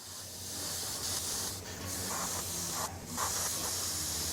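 Airbrush spraying blue paint for a chrome effect: a close, steady hiss that runs throughout with small surges as the flow changes.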